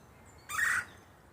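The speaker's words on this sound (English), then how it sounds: "what kind of bird is that?" An unidentified bird gives a single short, clear call, a bright tonal note lasting about a third of a second over quiet outdoor background.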